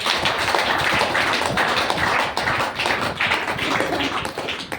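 A crowd at a DXN agent achievement event in Badlapur applauds loudly and steadily, producing a dense, continuous wash of hand claps that fades slightly at the end.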